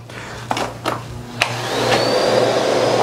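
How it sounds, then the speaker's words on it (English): Miele Boost CX1 vacuum cleaner on its low pile rug suction setting, with a few soft knocks before the motor spins up into a steady, close whirring drone that holds to the end. "I'm gonna keep it in the same suction setting as we use on low pile rugs"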